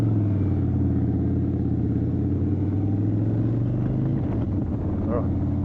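A 2023 Indian Chief motorcycle engine idles and runs in standard mode, a steady, close, low rumble with a deep pulsing tone that shifts slightly as the clutch is worked. A rider speaks over it.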